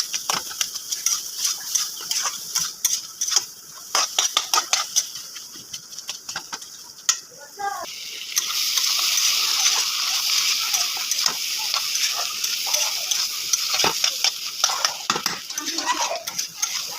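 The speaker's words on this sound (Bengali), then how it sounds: "ভালোভাবে একটু ভাজা ভাজা করে নেবো লাউটাকে" Bottle gourd fries in a pan while a spatula stirs and breaks it up, with repeated sharp metal scrapes and clinks over a low sizzle that swells into a steady hiss partway through.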